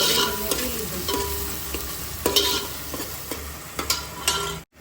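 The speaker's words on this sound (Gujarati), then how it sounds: "હવે ડુંગળી સતળાઈ ગઈ છે" Onions sautéing in hot oil with garlic in a pan for Chinese bhel, a steady close sizzle broken by repeated scraping stirs of a spatula against the pan.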